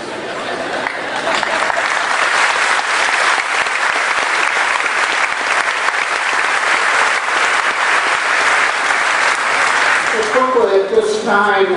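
Sustained, loud applause from a graduation ceremony audience fills the hall at a steady density for over ten seconds, then tapers off as a voice begins speaking near the end.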